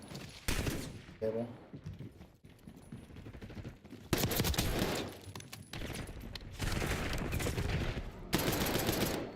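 Gunshots in a video game, bursts of fire hitting objects like a painting, a vase and a screen in an indoor room, loud and repeated in clusters with short gaps, while someone talks between the shots.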